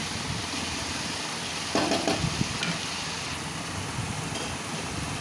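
Fried potatoes and spice paste sizzling in oil as they are stirred for an egg curry, a dense continuous fry hiss with a brief scrape of a spatula partway through, close and steady.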